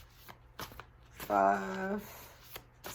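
Soft riffling bursts of tarot cards being shuffled, a few quick passes, with a brief spoken count in between; quiet and close.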